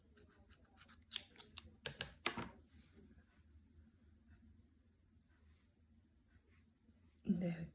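Scissors snip several times through black wool during a Halloween ghost puppet craft, giving a quick cluster of close, crisp cuts before a quieter stretch, with a voice briefly heard near the end.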